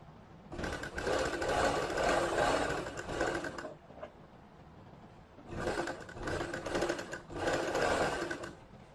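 A sewing machine stitches elastic into palazzo pants, running in two loud, steady bursts of several seconds each with a quieter pause between them.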